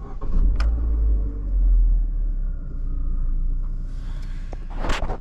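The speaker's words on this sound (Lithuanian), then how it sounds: "Tai padarysim pirmąjį užkūrimą su Chevrolet" A new Chevrolet car's engine starts for the first time and settles into a deep, steady rumbling idle close by, ending with a brief rustling burst.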